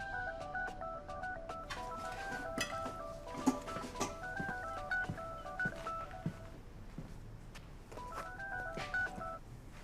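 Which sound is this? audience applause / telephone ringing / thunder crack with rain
telephone ringing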